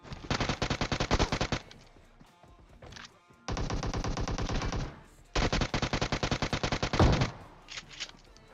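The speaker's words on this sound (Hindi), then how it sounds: "अब यहाँ पे बंदे एम फोर भी चला रहे हैं ए के एम भी चला रहे हैं" Bursts of automatic M4 and AKM rifle fire in the mobile battle-royale game PUBG Mobile, three long rapid volleys with short gaps and a brief spurt near the end, loud and close with no talk over it.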